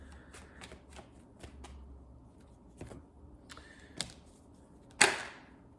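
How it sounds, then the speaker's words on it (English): Soft riffling and snapping of tarot cards being shuffled, a series of light flicks ending in one louder, sharper burst. "Let's get one more shuffle, please."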